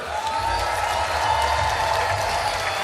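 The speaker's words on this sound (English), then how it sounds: "The crowd is getting behind her." A crowd at a women's final of a street skateboarding contest cheers and applauds continuously, as a broad steady roar with no clear break.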